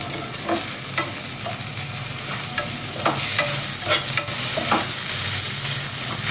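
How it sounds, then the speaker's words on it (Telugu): Mint being stirred into fenugreek chicken frying in a pan, a steady close sizzle with repeated clicks and scrapes of the spoon against the pan, no voices. "దీనిలోకి మనము పుదీనా వేసుకుందాం. మంచిగా పుదీనా వేసుకోండి, ఫ్లేవర్ ఇంకా బాగుంటుంది."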